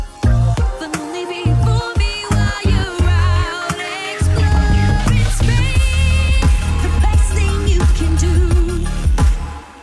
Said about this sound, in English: I've added a particularly interesting reverb